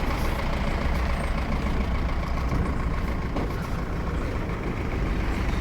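A small Ashok Leyland milk delivery truck idles with a loud, steady diesel rumble close by and no voices.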